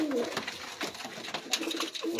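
A pure Batera pigeon gives a few close, throaty coos in short bursts against a busy background with faint noise.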